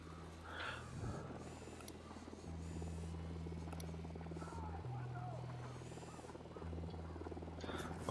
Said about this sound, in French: Le drone a décollé.